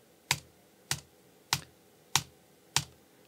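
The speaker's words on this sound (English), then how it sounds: "You can just go to the letter T on your keyboard and tap tempo." Five crisp, evenly spaced taps on the T key of a computer keyboard, about one every 0.6 seconds, close and clear with nothing else audible.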